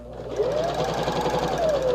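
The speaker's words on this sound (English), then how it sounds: "pull your work out of the sewing machine" A sewing machine runs steadily for about two seconds, stitching a fabric cording pocket, with a close, continuous mechanical whir and a rhythmic needle chatter and no voices.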